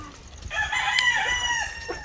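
A laying hen squawks and clucks briefly at close range in a poultry house, a short burst of fowl calls with no talking.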